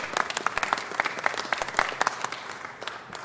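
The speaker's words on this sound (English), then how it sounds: "And let's give them a big round of applause." Applause from the audience at a city council meeting, a moderate round of clapping from a modest crowd, steady for a few seconds and then tapering slightly, with no talk over it.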